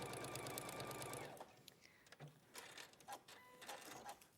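A sewing machine runs steadily for just over a second, a rapid buzzing stitch on fabric during a live sewing session, then stops, leaving faint handling clicks and rustles of fabric.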